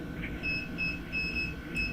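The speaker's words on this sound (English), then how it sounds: "the alarm alerts me and I can go, oh wow, we got some surface cracks" An eddy current tester's alarm gate beeps repeatedly while the probe scans for surface cracks on aluminum aircraft parts. The high, thin tones come in an even rhythm over a low rumbling background.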